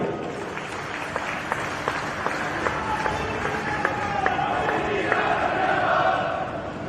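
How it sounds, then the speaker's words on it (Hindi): Large audience clapping together on cue at the naming ceremony of Shaheed Bhagat Singh International Airport in Chandigarh, a dense sustained roar of applause building slightly toward the end, with faint voices mixed in. "अब इसके ऊपर आप जरा जोर से एक बार ताली बजा दीजिए।"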